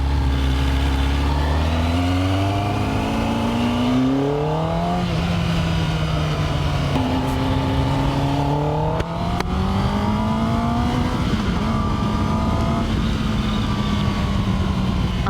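A Kawasaki Ninja ZX-10R motorcycle engine runs loud and steady while riding, its pitch climbing and falling through repeated rev rises and gear changes across the whole stretch, with no voices.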